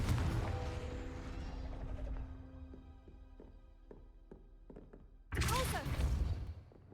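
A Confringo fire spell from Hogwarts Legacy bursts loudly at the start, followed by a run of light knocks and thuds, then a sharp, bright impact blast erupts near the end.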